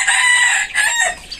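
A desi rooster crows loudly and close by, one strained, drawn-out call.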